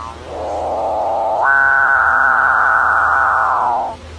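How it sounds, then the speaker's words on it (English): A capuchinbird's call played from a recording, a single drawn-out, low, moaning tone that swells, steps up in pitch midway and fades, loud and alone without talk. "First is capuchin bird."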